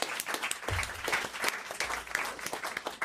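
Studio audience applause on a French radio comedy show, a lively patter of many hands clapping with uneven bursts and a few louder claps near the mic.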